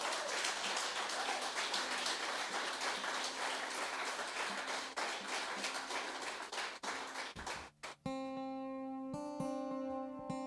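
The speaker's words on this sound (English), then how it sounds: "Can we just have another massive round of applause for Cerian, Daisy, and Saby?" A live music audience applauds loudly with dense, sustained clapping for several seconds, then it fades as sustained musical tones take over.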